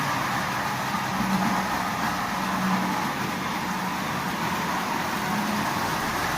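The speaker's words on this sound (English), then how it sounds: "So it's running. It appears to be running absolutely perfectly." A Marx toy double reduction diesel motor running steadily after restoration, a continuous even mechanical whir with a faint hum, close and alone without pauses or talking.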